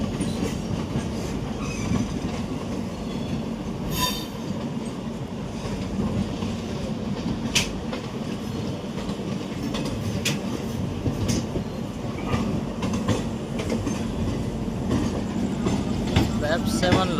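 Howrah Amritsar Mail passenger train heard from inside a 3rd AC coach: a steady, dense rumble of wheels on rails with faint clickety-clack and occasional brief clanks throughout.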